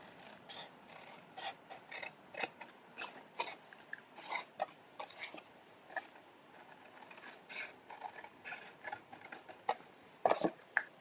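Scissors snip through paper card while a gift card treat box is made, a quiet, close run of irregular crisp cuts and rasps with small rustles between them.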